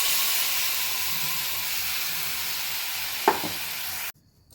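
Ground tomato sizzles with ginger-garlic paste in a hot pan for chana masala, a loud continuous hiss with one brief clink, cutting off abruptly near the end.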